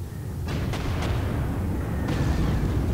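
Artillery fire in the wartime strategy game Panzer Corps: a few dull booms and bursts spaced over a dense rumbling backdrop, moderately loud with no voices.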